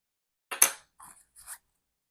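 Baby grooming scissors with blunt tips and a protective cover are handled, giving three brief light metallic clicks and snips separated by silence.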